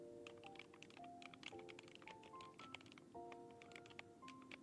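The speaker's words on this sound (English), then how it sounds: "So my keyboard is more of creamy sound. Like pebbles." Rapid typing clicks from a creamy-sounding, pebble-like mechanical keyboard, soft and steady keystrokes close up over a quiet tonal background.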